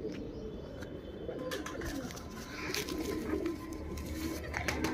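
Pigeons of the pearl-eyed 'motiyon wale' breed coo steadily and softly at close range, with a continuous low murmur filling the whole stretch and no talking.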